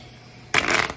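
Tarot cards being shuffled, a sudden burst of dense papery riffling that starts halfway through after near silence and stays loud to the end.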